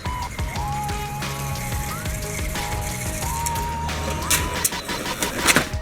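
Homemade direct-drive brushless RC snowmobile running on pavement, with high electric motor whines rising and falling as it passes, plus scraping rattles and a few sharp knocks toward the end.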